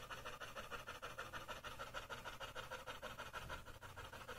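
A dog pants rapidly and rhythmically after a walk, with quick steady breaths that continue without pause, close and fairly soft, with no talking.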